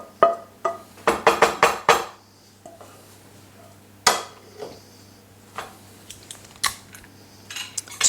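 Cooked bacon, onion and garlic are tipped from a pan into buttery potato mash, with a quick run of metallic clanks and scrapes followed by sparser knocks of utensils and cookware; nobody talks.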